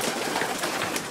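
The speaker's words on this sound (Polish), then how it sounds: "O, tutaj są też te gołębie" Pigeons in a loft give a brief, close, soft cooing murmur that goes on through the moment, with no voices.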